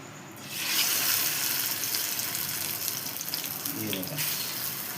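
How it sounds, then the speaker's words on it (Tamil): Groundnut oil, cold-pressed, poured into a pan on a lit stove, a steady broadband liquid rush starting after a brief pause and continuing close and fairly loud, with a faint voice briefly near the end. "கடலை எண்ணெய் ஊற்றிக்கலாம்."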